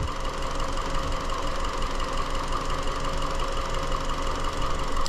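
A 2017 Hyundai Elantra 2-litre engine idling with a dead misfire on cylinder three, a loud, steady, rough running drone with an uneven knocking pulse, close up and with no talk.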